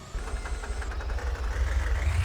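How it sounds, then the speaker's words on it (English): Truck engine idling roughly in the game Gear Blocks, a steady low rumble with uneven knocking pulses and no talk. "Why is it idling like that?"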